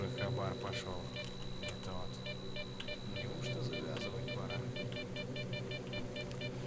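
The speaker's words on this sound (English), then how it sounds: "That beeping is quite annoying." Repeated electronic beeping in the video game S.T.A.L.K.E.R. (OGSE Shadow of Chernobyl mod), short regular high-pitched pulses recurring through the clip over a low ambient hum, with faint game sounds mixed in.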